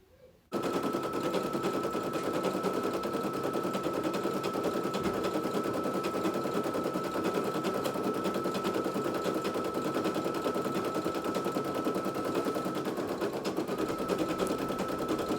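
A Brother PE800 embroidery machine stitches a tea towel with a fast, steady rattling chatter like rapid tapping, close and continuous after starting abruptly, with a faint high whine running underneath.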